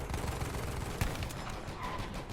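Rapid gunfire in Battlefield 1 on the Death Railway map, a continuous crackling stream with one sharper, louder shot near the middle, moderately close.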